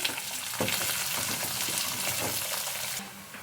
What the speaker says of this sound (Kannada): ಈಗ ಹೈ ಫ್ಲೇಮಲ್ಲೇ ಇಟ್ಕೊಂಡು ಫ್ರೈ ಮಾಡ್ಕೊಳ್ಳಿ.